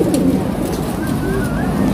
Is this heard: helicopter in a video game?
no